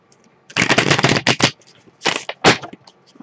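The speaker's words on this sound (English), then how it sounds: "just give it another couple of shuffles. This is a Rider-Waite deck." A Rider-Waite tarot deck is riffled and shuffled by hand up close, one long crisp flurry of papery card slaps followed by two shorter bursts, with quiet gaps between.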